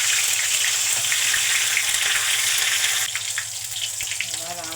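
Cumin seeds and bay leaf tempering in hot oil for a raw banana kofta curry give a loud, steady, close sizzle that eases slightly partway through.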